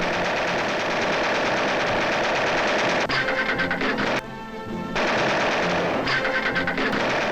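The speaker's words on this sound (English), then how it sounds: "sharpshooters learn to use aerial machine guns, training their fire upon small discs hurled by a machine into the air" Aerial machine guns in a World War II gunnery school turret fire at small airborne target discs, loud rapid continuous bursts with a short pause midway, then firing resumes at full intensity.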